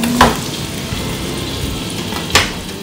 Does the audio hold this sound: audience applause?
no